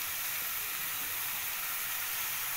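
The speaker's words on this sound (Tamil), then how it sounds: "இது பொன்னிறமாக வெங்காயம் வதங்கணும்." Onions and tomatoes frying in a pan for a Tamil prawn gravy, giving a steady, faint broadband sizzle that runs without a break, with no voices.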